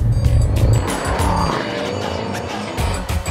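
A Mercedes-AMG S 63 4Matic+ limousine pulls away, its engine giving a deep rumble that swells at the start and settles into a steady, close drone with a faint rise near the end.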